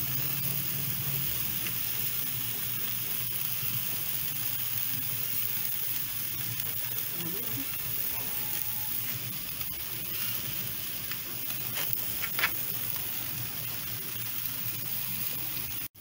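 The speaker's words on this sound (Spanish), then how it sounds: "Ya tenemos aquí nuestra carne, ya se está asando." Carne asada sizzles on a grill in a steady, hissing wash of noise at moderate level, with a few faint clicks and pops near the end.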